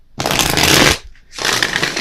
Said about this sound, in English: I feel like I need to shuffle this up a little bit